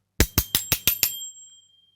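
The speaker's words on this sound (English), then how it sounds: "So get that bell on." A bicycle bell rings in six rapid, evenly spaced dings, loud and close, and the metallic tone lingers and fades for nearly a second afterward. No voices are heard.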